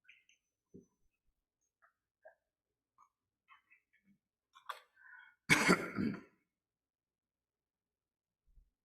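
A single loud, close cough bursts out after several seconds of near silence broken only by small faint clicks and a brief throat sound.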